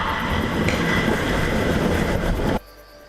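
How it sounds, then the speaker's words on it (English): A loud, close electrical surge from the Wicked Twister roller coaster, a sustained rumbling roar with a rising whine that cuts off abruptly into quieter background hum. "That's the sound of electricity right there."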